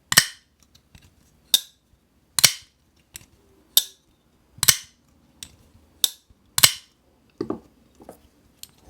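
A production pocketknife blade is flicked open again and again, a string of sharp, crisp metallic snaps spaced about a second apart, close by and alone in a quiet room.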